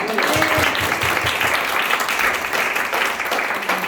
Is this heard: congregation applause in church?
yes